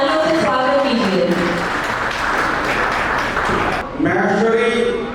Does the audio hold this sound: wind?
no